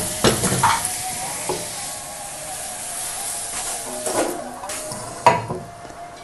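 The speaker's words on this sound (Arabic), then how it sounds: "بعدما نقوم بتسخين المقلاة جيدا نضع قليلا من الماء البارد في المقلاة" Cold water splashes into a well-heated frying pan and hisses loudly, with sharp bursts of sizzle and clanks of the pan while the steaming noise settles between them.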